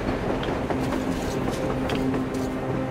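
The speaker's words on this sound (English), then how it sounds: "A train! A damn train on the surface!" A train moving across the snowy surface in Metro Exodus, a steady rumbling rail roll with faint clattering, heard alone at a moderate distance.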